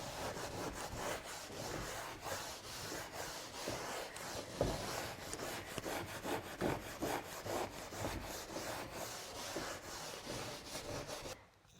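Scraping and rubbing paint residue off an old wooden cupboard, a steady rhythmic back-and-forth abrasion running continuously close by, with no voices.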